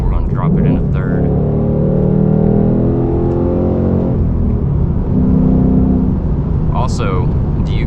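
A Ford Mustang downshifts into third gear and accelerates, its engine rising in a steady revving climb, dipping briefly, then pulling again, loud and close from inside the car with a few faint background noises.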